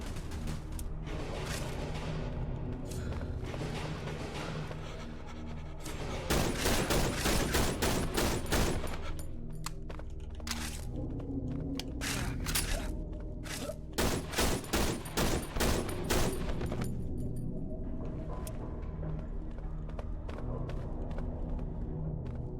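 Gunfire in the horror video game Cry of Fear: rapid bursts of loud sharp shots in clustered volleys, separated by quieter stretches of game ambience.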